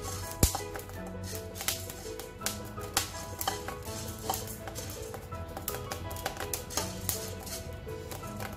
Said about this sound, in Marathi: थोड्या लाह्या पण फुटायला सुरुवात झाली गव्हाच्या